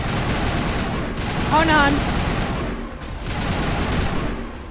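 Bursts of weapon fire in the video game Mass Effect, dense crackling volleys that come and go in waves across the stretch, loud, with a player speaking briefly over the shooting.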